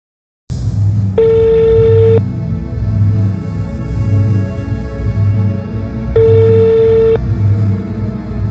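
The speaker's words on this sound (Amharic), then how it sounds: "ይሄንን ስልክ ከጽጌረዳ ሌላ ማንም የማያውቀው ፖሊሶች ናቸው የሚደውሉት" A telephone rings twice with a steady electronic tone, each ring about a second long with a pause between, loud over a low rumbling background.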